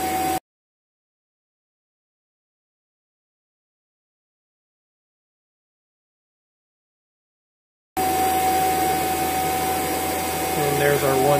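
Fieldpiece VP85 vacuum pump running, a loud, close, steady whine with a droning hum that begins after a long stretch of silence and continues evenly to the end.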